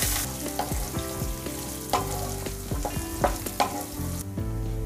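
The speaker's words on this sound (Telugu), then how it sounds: "చిన్నగా కట్ చేసి పెట్టుకున్న అల్లం ముక్కలు, కరివేపాకు బాగా ఫ్రై చేసుకుందాము" Green chillies, chopped ginger and curry leaves frying in hot oil, a loud close sizzle with repeated sharp spatula scrapes and clinks against the pan in an uneven rhythm.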